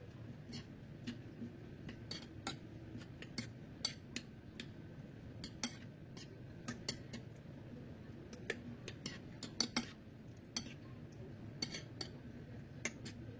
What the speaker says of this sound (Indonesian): Kita aduk hingga sampai semuanya tercampur merata.